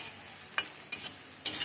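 Cumin, white sesame and mustard seeds tempering in hot oil with onion, quiet background crackle broken by three short close bursts of sizzling and stirring, the last one longest.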